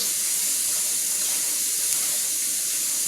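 Kitchen sink tap running steadily as chitterlings are rinsed, a continuous close hiss of water with no breaks.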